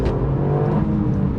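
Toyota GR Yaris on country B roads, a steady loud engine drone with rising revs, close and continuous with no talking.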